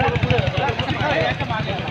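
Motorcycle engines rumble at a bike rally in Kalyan, Thane district, held for Constitution Day. A steady low, pulsing drone runs throughout, with a voice talking over it.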